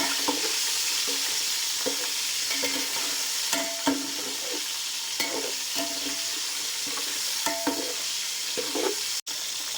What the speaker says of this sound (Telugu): బాగా వేయించుకోవాలి అన్ని సైడ్స్.